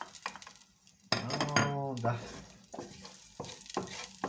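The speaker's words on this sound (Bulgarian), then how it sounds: "сега запръжваме това" Chopped garlic sizzling in a hot pan as a fry-up for bream soup, with a burst of loud frying and stirring, utensils clinking against the pan, and brief speech over it.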